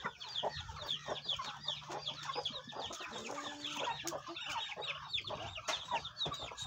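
A very large chicken in Davao clucks repeatedly at close range in busy, uneven bursts, with other fowl calling around it throughout.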